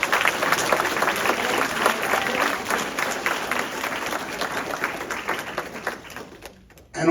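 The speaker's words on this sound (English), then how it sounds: "I would just like to give one round of applause to the students." Sustained audience applause fills the room for students at a summer math league tournament, dense steady clapping that holds for about seven seconds before fading out at the end.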